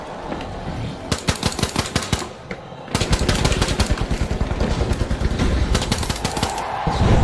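Gunfire in the video game The Finals comes as loud, rapid automatic bursts, with a short lull before a dense, sustained stream of shots that keeps going to the end.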